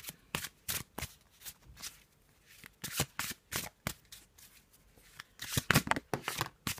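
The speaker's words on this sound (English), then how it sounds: "So let's just have a little shuffle" Faulkner Tarot cards in the black and white edition being shuffled by hand, giving a close run of crisp riffling bursts and soft slaps in an uneven rhythm, with no voice over them.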